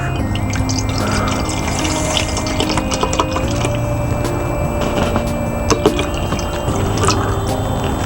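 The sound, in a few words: pouring about 8 ounces of water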